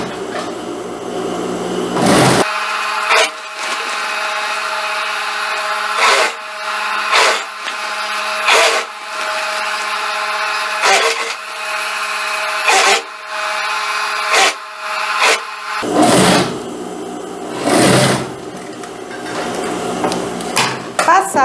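A sewing machine runs a long steady stitch along a jacket strip, its continuous motor hum framed by clattering handling knocks before and after the run.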